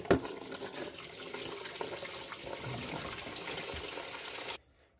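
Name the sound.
water draining from a sink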